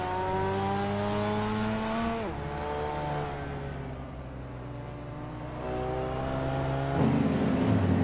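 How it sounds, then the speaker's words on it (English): A 1980 Lotus Esprit Turbo race car in a racing video game, its engine droning steadily and loud with rising and falling revs, shifting pitch around two and seven seconds as it works through gears. "Buckyboard is driving a 1980 Lotus Essex Turbo Esprit"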